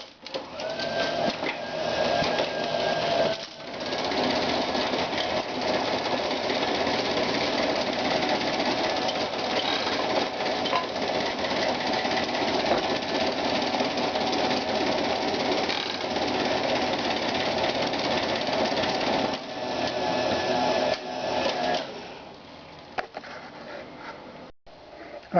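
Paces Races Red Arrow racing game model with its tracks removed, mechanism running: a loud continuous mechanical whirring and rattling for over twenty seconds, with a brief dip early, then fading near the end.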